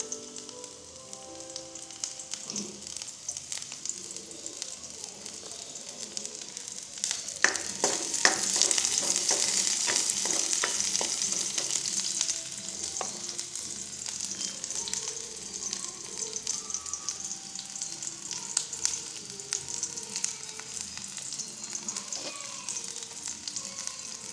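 Shallots fry in a pan for tofu soup, giving a continuous close sizzle with scraping stir strokes, a louder crackling surge partway through, then a steady hiss.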